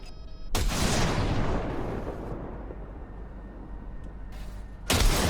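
A short burst of gunfire in Cyberpunk 2077 breaks out loudly and decays into a long rumbling tail, with another sharp blast near the end.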